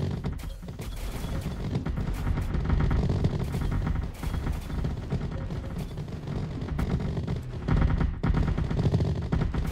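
Rapid gunfire, flak and mortar blasts clatter nonstop in the strategy game Artificial Extinction, loud overlapping bursts of shots and booms forming a chaotic battlefield barrage with no talking.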